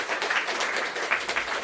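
A crowd at a sci-fi cabaret event applauds with steady, dense clapping that holds at an even level throughout, moderately loud, with no talking over it.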